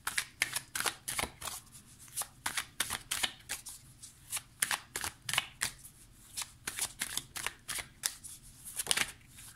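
Oracle cards from the Oracle des Miroirs deck being shuffled by hand, a close series of quick papery riffles and flicks in an irregular rhythm, quiet and alone.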